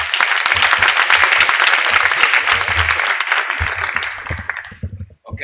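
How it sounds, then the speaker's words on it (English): Audience at a Fujitsu World Tour 2017 conference in Brussels applauds a keynote speaker coming on stage, with dense sustained clapping that fades out over the last second. "If you can come on stage, and we can welcome Jan with an applause."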